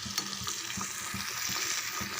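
Ground onion-tomato chutney paste sautés in a pan, a soft, close sizzle with rhythmic stirring strokes scraping through it.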